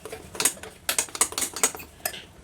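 A spoon stirs a thick urad dal batter in a bowl, making a string of sharp clinks and scrapes against the vessel. The strokes come in an irregular rhythm, close and fairly loud, with no voices.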